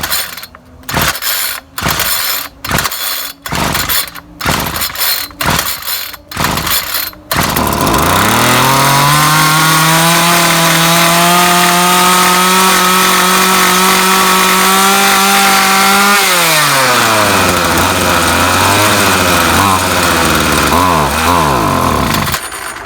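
A John Deere gas string trimmer gets several sharp, rhythmic pull-cord yanks, then its small two-stroke engine catches and runs loud and steady. The engine buzzes continuously at close range, then drops to a lower, wavering idle.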